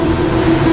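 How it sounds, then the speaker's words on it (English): An overhead conveyor train in Tesla's Fremont factory carries a bare Model S body toward the paint area, giving a loud, steady mechanical hum with a faint rolling rattle and no speech. "The body in white is loaded onto an overhead train that carries it to the paint area."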